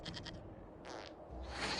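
Goat bleating in the video game Dragon Age: Inquisition, a few short bleats heard early and again midway over a steady game ambience, with a brighter burst toward the end.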